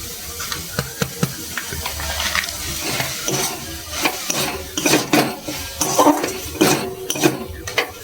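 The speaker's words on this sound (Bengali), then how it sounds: "আর একটু নেড়ে চেড়ে আমি নামিয়ে নেব।" Red spinach filling with fried spice mix stirred in a pan as it dries out, with irregular scraping clatter and soft hissing sizzle, fairly close and busy throughout, no voices.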